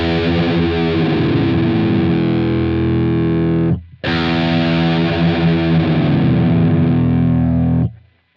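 Guitar played through a Line 6 Helix polyphonic pitch shifter set to a slow shift curve, two sustained distorted chords gliding gradually in pitch, loud and alone, with a brief gap between them.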